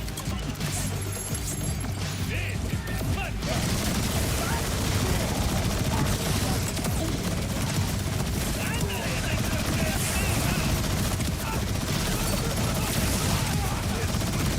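Dense, continuous submachine gun fire rattles through a Borderlands 4 shooter game, a loud, steady barrage with mechanical clatter and impacts running throughout.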